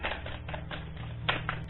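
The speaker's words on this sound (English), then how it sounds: "Let me do another bridge shuffle." A deck of tarot cards riffled and bridged, a dense crackling flutter running steadily throughout with a sharper burst of snapping near the end, close and fairly loud.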